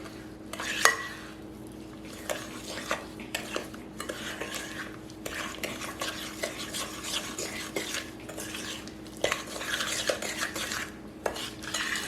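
An egg is mixed into einkorn-flour cake batter in a bowl, with steady rhythmic scraping and clinking of a utensil against the bowl's sides for several seconds, close and moderately quiet.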